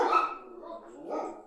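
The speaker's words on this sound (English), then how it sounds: "We leave the Oh, dogs you don't? barking in here and everything" Dogs bark indoors in a podcast studio, a couple of short close yips and barks, moderately quiet.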